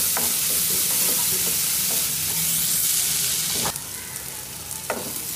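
Sliced vegetables for a veg sandwich frying in oil in a pan, a loud, steady hiss that drops lower after a few seconds, broken by occasional utensil taps and scrapes.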